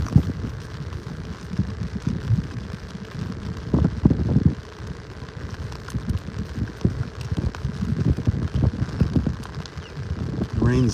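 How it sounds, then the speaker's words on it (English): Light rain pattering on an umbrella during an early morning beach walk in North Naples, Florida, a close, continuous soft drumming with denser bursts, steady and unbroken. "It's making a lot more noise on the umbrella now."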